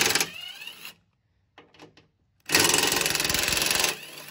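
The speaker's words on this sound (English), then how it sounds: "we need a 45 Torx bit, and we just go ahead and back these suckers off" Power driver backing off the top cover bolts of a Jeep Gladiator JT with a 45 Torx bit, a close, loud whirring burst, a short pause with faint clanks, then a second steady sustained run.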